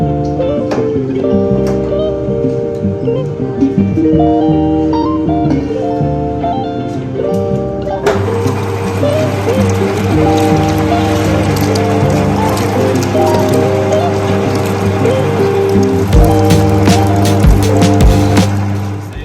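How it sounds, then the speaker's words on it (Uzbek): An electric meat grinder minces meat for khinkali with a loud, continuous droning whir and gritty crunching that starts partway through, over steady background music. "Mesorobkani chiqarib olishni boshlaymiz."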